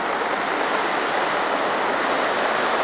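A large volume of water gushes steadily from a roughly 80 cm pipe buried about two metres deep, a dense, loud, unbroken roar with no pauses.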